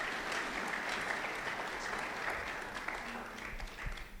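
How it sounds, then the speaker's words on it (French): Church congregation applauding steadily, a dense even wash of many hands clapping at moderate distance, holding throughout with no voices on top. "Est-ce qu'on peut acclamer la parole du Seigneur?"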